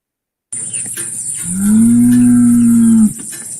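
A cow lets out one long, loud moo lasting over a second, rising and then holding steady before stopping abruptly, heard clearly over a faint outdoor background.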